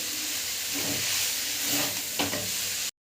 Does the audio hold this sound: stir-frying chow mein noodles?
yes